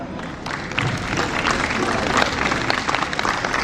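Audience applause at a traditional Korean wedding ceremony held at Atlanta Hartsfield-Jackson International Airport, a steady wash of many hands clapping with crowd murmur and voices mixed in throughout.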